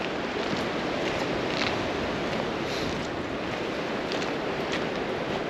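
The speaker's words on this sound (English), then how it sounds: "very windy." A strong, steady wind roars without letup around an off-grid cabin in November, filling the space with broad rushing noise and occasional harder gusts.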